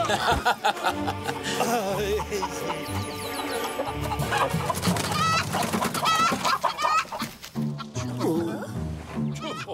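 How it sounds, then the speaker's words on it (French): Cartoon chicken clucking in busy bursts over a full orchestral score, with voices speaking at times, all close and fairly loud. "Cochonnerie de poulet!"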